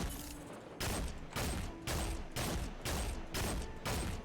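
A hand cannon fires in a video game, roughly eight heavy booming shots at an even, rapid rhythm, each blast loud and close with a short tail, with no talking.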